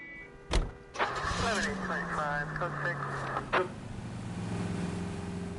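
A car driven in L.A. Noire, with a steady engine drone, a short mechanical whir and a thud early on, then a rising and settling engine note under a voice talking over it.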